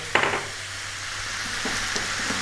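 Chopped tomato drops into a hot pan with a short clatter, then a steady close sizzle runs on with a few faint stirring taps.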